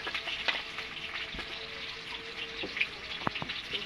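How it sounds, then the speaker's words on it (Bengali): Potatoes frying in oil in a pan with turmeric and salt, a steady faint sizzle with occasional light clicks of a stirring utensil, no talking. "নাড়াচাড়া করে আলুগুলো লাল লাল করে ভেজে নেব"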